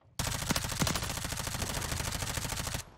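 Rapid automatic gunfire from a submachine gun in Call of Duty Modern Warfare III, a continuous burst of close, loud shots lasting nearly three seconds before cutting off.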